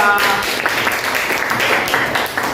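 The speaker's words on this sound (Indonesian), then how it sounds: "beri tepuk tangan untuk kelompok 2" Students in a civics class applaud group 2 as they step forward to present their project; loud, close, dense clapping fills the room, with sharper individual claps standing out from the steady wash.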